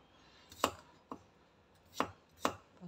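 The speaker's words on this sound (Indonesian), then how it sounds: "potong-potongnya gede-gede aja" Garlic cloves being chopped into big pieces on a cutting board: four sharp, separate knife chops, close and fairly quiet, with no talking.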